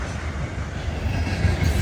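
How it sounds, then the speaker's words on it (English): A loaded southbound CSX manifest freight train carrying long cuts of phosphate cars rumbles past, a steady low rolling drone with faint wheel clatter, moderately quiet and unbroken. "my first manifest train of the day, loaded southbound featuring large cuts of what I think are phosphate cars"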